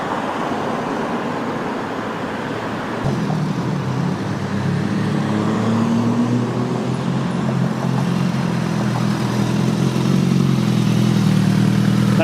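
A motorcycle on a road: its engine note swells in at about three seconds and holds as a steady, fairly close mid-pitched drone with distant traffic hum behind it, no talking.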